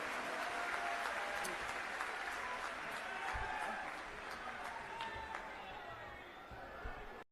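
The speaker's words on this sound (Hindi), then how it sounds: "आप सब ताली बजाकर ऐसे संत का स्वागत कीजिए।" An audience at a Sanatan Dharma religious assembly claps to welcome a saint, a steady wash of applause from a large crowd that fades slightly toward the end.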